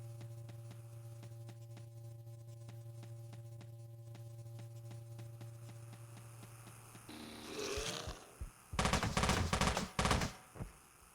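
Auto pistol and submachine gun fire in the top-down shooter Teleglitch, a low mechanical hum giving way to rapid bursts of loud shots near the end.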